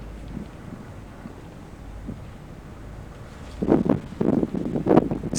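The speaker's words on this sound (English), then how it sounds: "there is a lot of wind outside" Outdoor wind buffets the microphone as a steady low rumble, then stronger gusts bunch up in the last two seconds.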